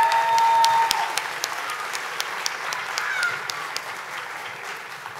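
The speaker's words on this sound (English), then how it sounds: "Round of applause, please." A crowd applauds at a high school commencement ceremony, a sustained, even round of clapping that eases slightly in loudness over several seconds, with a brief tone near the start and little talk.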